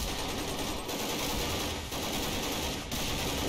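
A SWAT team fires guns at Mr X in Garry's Mod as a dense, continuous, loud barrage of rapid machine-gun fire, close and unbroken, with only slight dips in the roar.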